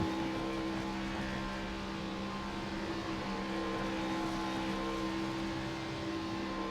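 Race cars at Pocono doing double burnouts after a race, a steady, loud engine roar with sustained droning tones and no clear pauses.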